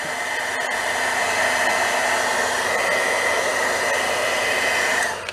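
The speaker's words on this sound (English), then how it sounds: "So now I'm just going to heat set that a little bit." A heat embossing tool blows a loud, steady whir of hot air with a constant high whine for about five seconds, used to set tarnished silver foil on a card, then cuts off at the end.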